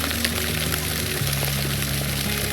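Mountain spring water gushes from a hose in a steady, loud, close splashing stream, with faint tonal hums underneath and no pauses.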